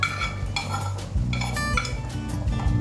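Spoon stirring feijoada of black beans and sofrito in a pot, with repeated close metallic scrapes and clinks against the pot's sides over a soft bubbling background, no talking.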